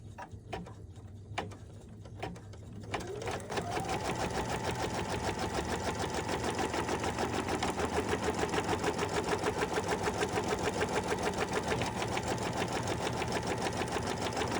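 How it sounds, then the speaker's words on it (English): An embroidery machine stitches down the side of an in-the-hoop zippered key fob, starting after a quiet moment and settling into a steady, fast, close mechanical chatter that runs on without talk. "It's going to stitch down the left side."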